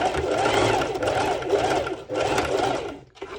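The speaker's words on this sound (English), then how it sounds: "I will be doing a straight stitch" Close sewing machine running a straight stitch on sportswear fabric, loud rhythmic chugging in repeated bursts with short pauses between runs, no talking.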